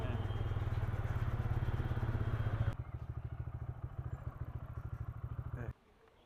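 A motorcycle bike taxi in Kolkata runs with a steady, throbbing engine pulse close by, dropping to a quieter, rhythmic idle partway through and then cutting off near the end.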